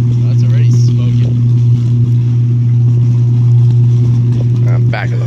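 A car engine running strongly with a steady low tonal drone while the vehicle backs up, loud and close, with a voice speaking briefly over it.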